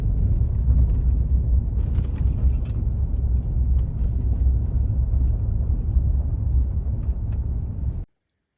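A car drives along sandy roads through longleaf pine woods, a steady, close, low engine and tire rumble that runs unbroken and then stops abruptly.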